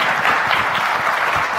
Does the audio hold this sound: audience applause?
yes